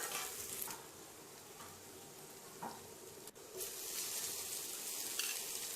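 Onion, ginger, garlic and tomato sizzle in butter and oil in a pan, a soft continuous frying hiss with occasional stirring scrapes, quiet and close.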